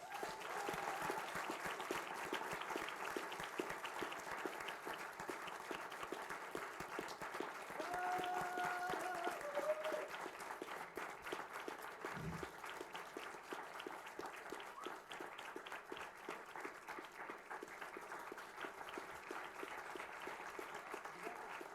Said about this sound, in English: So biggest applause goes to the organizers.